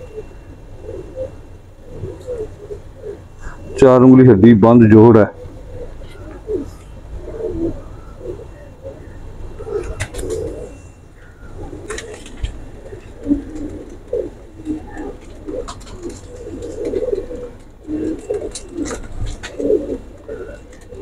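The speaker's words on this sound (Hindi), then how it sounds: "ये बड़ा कबूतर है" Golden pigeons, two males and a female, coo in soft repeated bursts, with one loud close call early on, while someone talks over them intermittently.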